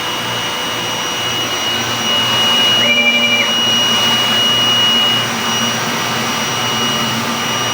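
A DTF printer runs a nozzle test after a head cleaning, giving a steady mechanical whir and hum that lasts throughout, with a thin high tone in the middle and the carriage motor swelling briefly.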